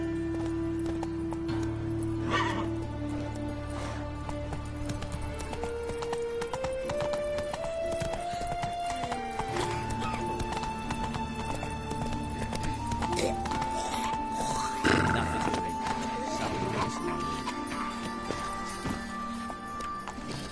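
The horse Roach gallops in The Witcher 3, its hoofbeats drumming steadily under music and game sound, with a whinny rising briefly near the middle.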